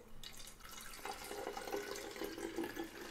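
About 240 ml of water being poured, heard as a soft, continuous splashing and trickle that grows fuller after the first second and runs steadily to the end, with no talking.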